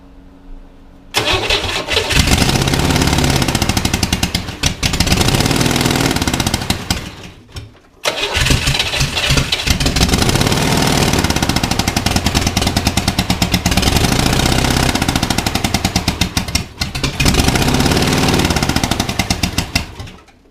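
A refurbished Corvair engine runs loud and rough, misfiring and not firing on all cylinders, with a harsh, uneven clatter that cuts out briefly around the middle before picking up again.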